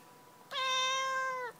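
A cat meows from inside a washing basket, one long, steady, clear call lasting about a second, close and alone against a quiet room.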